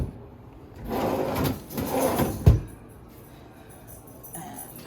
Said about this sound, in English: You got some storage down here, a few drawers.